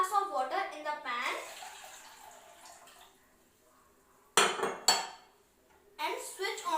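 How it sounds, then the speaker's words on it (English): Water poured from a glass into a cooking pan in a home kitchen, a splashing pour in two short bursts between clinks and handling noises, with speech heard early on. "First we pour 2 glass of water in the pan"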